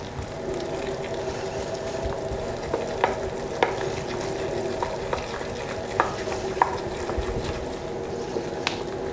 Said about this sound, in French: Jusqu'à ce que ma farine soit bien dissoute.